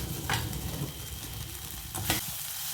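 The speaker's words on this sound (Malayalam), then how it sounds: "ഈ സോയ ഒന്ന് ഫ്രൈ ചെയ്തെടുക്കാം" Soya chunks frying in a pan, a steady close sizzle with crackling spatter that fills the whole stretch, and two brief stirring scrapes.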